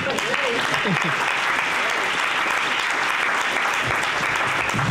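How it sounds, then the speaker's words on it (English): Audience clapping at a Saint Paul Promise Neighborhood community event fills the room with steady, dense applause from start to finish, while a few voices carry faintly underneath. "Let's clap for that too."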